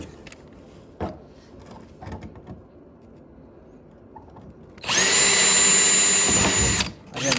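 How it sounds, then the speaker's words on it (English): A power drill bores into a go-kart frame in one loud, steady whine of about two seconds, after a stretch of quiet handling clatter and knocks. "Go ahead and drill your 3 holes here."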